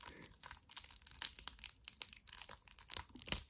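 Sylvanian Families toy packaging is torn and crinkled open at close range in a quick run of sharp plastic and paper rustles, crackles and rips, with no talking.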